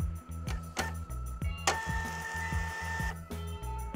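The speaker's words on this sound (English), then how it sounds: "The media now prints with even pressure and good resolution." A Zebra ZT230 label printer runs a print job with quick, regular mechanical ticks and clicks and a brief higher whirring stretch midway, quiet and close.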